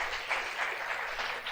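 A church congregation claps together in a soft, continuous patter, fairly distant and low in level, with no one speaking over it.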